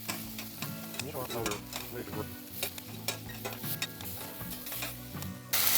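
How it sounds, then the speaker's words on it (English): Ground lamb browning in a pan for moussaka, with a steady sizzle under repeated scraping and stirring strokes, close and moderately loud throughout. "continue to brown the lamb"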